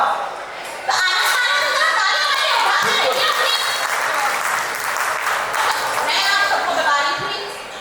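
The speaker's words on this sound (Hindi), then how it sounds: "तो आना तालियां बजाओ" An audience bursts into loud, sustained applause and cheering at a Hindi comic poetry gathering, the clapping rising sharply after a moment and holding strong before easing, with voices and laughter mixed into the crowd noise.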